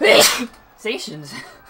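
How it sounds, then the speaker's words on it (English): A single sharp sneeze bursts out close by, followed by a brief spoken word. "you just sneeze all over your bookshelf"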